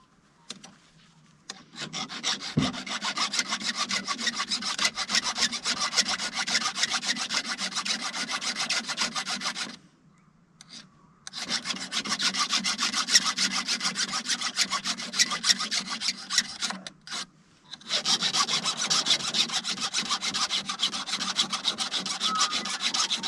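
A file rasps steadily across the rakers of a chainsaw chain, giving a continuous gritty scraping that runs for long stretches. It breaks off briefly twice before resuming.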